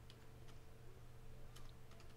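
Keystrokes on a computer keyboard while entering a cotton-specification prompt into ChatGPT, quiet scattered clicks in short bursts over a low steady hum, with no talking.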